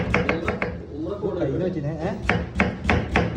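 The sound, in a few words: knife cutting cabbage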